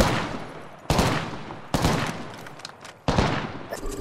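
Apex Legends gunfire: three or four sharp, loud shots or short bursts, each followed by a decaying tail and spaced about a second apart, with no talk.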